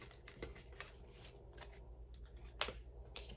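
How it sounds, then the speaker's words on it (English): Cards riffle and flick in short soft bursts with small pauses between, quiet and close. "let me just do a quick shuffle"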